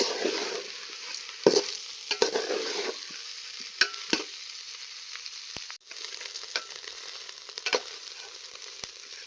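Mixed rice for a vegetable khichdi stirred in a pan, a soft continuous sizzle with scattered spoon scrapes and clicks, close and moderately quiet, with no talking.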